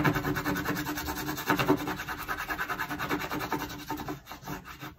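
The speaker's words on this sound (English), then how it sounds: "if I take a piece of paper, and I'll use one of my rubbing crayons, when I take a little rubbing of what I've worked on" A crayon rubs back and forth over paper laid on a carved printmaking block, making a steady close scratchy rasp in quick repeated strokes, with no talking.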